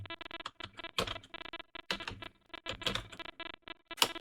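Quick bursts of computer keyboard typing, light irregular key clicks up close, with short pauses between runs of keystrokes.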